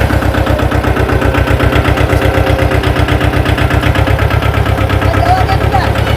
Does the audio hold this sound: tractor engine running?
yes